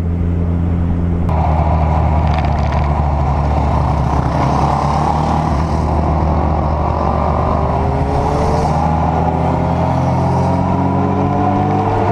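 Superbikes, including Kawasaki, Triumph, Harley Davidson and KTM machines, ride along an open road, a steady loud engine drone and wind rush running throughout with no talk.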